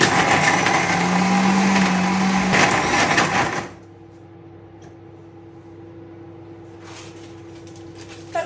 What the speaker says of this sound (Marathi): आता याला मिक्सर वरती फिरवून घेऊया